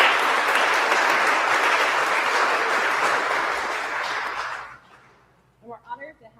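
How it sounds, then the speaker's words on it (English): Audience applause at a medical residency clinic event, loud and dense steady clapping for several seconds that tapers off and stops, followed by a brief bit of speech. "Let's give them a round of applause."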